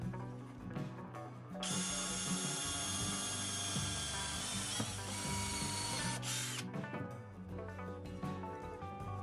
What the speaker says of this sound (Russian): Теперь вставляем трубку и спокойно сверлим в ней отверстие.